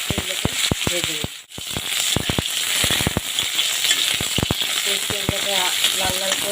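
Homemade biuli dal bori, lentil dumplings, frying in white cooking oil: loud, close crackling and popping in rapid bursts over a constant hiss, with a brief lull before the spattering picks up again.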